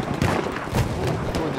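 Several sharp gunshot bursts crack in quick succession amid a dense, noisy Battlefield 1 game soundscape with explosions and rumble.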